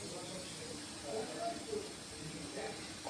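A pressure cooker in a home kitchen lets out a steady, broadband hiss of escaping steam, continuous and moderately loud for the whole stretch, with faint kitchen noise beneath.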